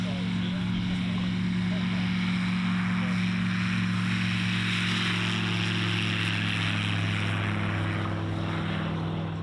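Low-flying backcountry propeller airplane at a Cub Aircraft short-takeoff-and-landing challenge event in Arkansas, a steady loud engine drone with strong low harmonics held throughout, with commentary voices over it.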